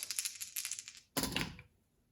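Three dice roll and clatter across a tabletop during a gridded naval wargame: a quick run of rattling clicks, a short pause, then a sharper scatter that settles and fades.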